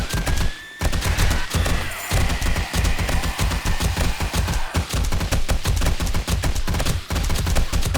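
Rapid sustained automatic gunfire firing HP rounds in the zombie survival game 7 Days to Die during a horde night, dense continuous bursts with brief pauses, loud and close.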